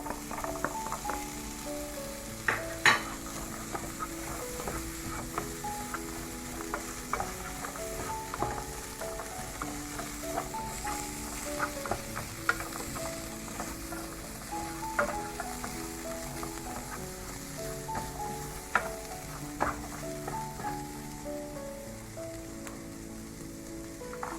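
Vegetables frying in a pan with paprika, pepper, seven spices and ginger for Indonesian bihun mamak, a faint, steady sizzle broken by scattered clicks and clatters of stirring utensils, with no talk.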